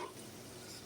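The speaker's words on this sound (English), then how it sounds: "Frying up dried fish." Dried fish frying in a pan, a steady soft sizzle and crackle heard throughout, faint and fairly even with no voices.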